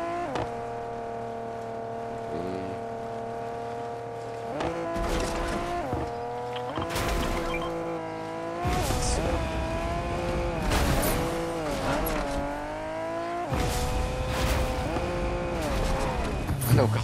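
A car in Fortnite drives with a steady droning engine tone that shifts pitch as it accelerates and climbs, broken by rough scraping and skidding bursts, close and continuous.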